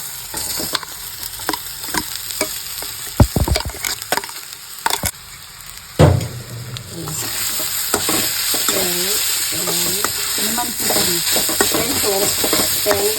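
Sliced onion and grated coconut stir-fried together for a drumstick leaf dish, with a loud continuous sizzle and repeated sharp scrapes of a spatula against the pan, heavy stirring bursts early on, then steadier frying with rhythmic tosses.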